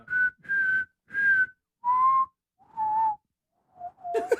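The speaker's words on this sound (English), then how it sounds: "And everybody's whistling." A tune is whistled in five long, steady notes separated by brief pauses, stepping downward in pitch, followed by a couple of softer notes and a faint rustle.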